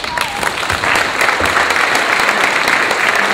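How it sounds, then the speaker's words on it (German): An audience at a talk applauds in a loud, continuous burst of clapping that holds steady throughout, with some crowd murmur underneath. "Applaus!"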